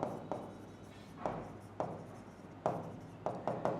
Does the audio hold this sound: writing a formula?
yes